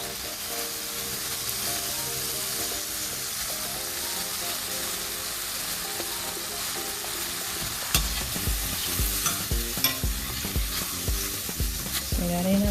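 Vegetable bouillon stirred into sizzling tomatoes in a pan for a vegan pasta, a steady close sizzle with soft stirring scrapes that turn into rhythmic knocks near the end, with faint music-like tones underneath.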